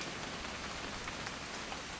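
Rain in the video game What Remains of Edith Finch makes a dense, steady hiss of drops on surfaces. It sounds close and constant, with nothing else heard.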